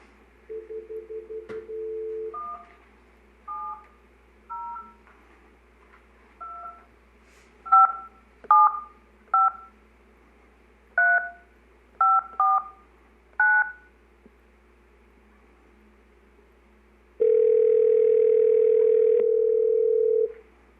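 A phone call is placed from a committee meeting: a steady dial tone, about a dozen keypad beeps in an uneven rhythm, then a long steady line tone.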